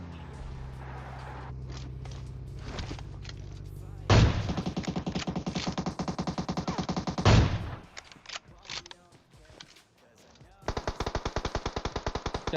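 Gunfire in PUBG Mobile, with rapid automatic bursts, two sharp loud shots and a long steady volley near the end. Faint footsteps and game noise fill the pauses.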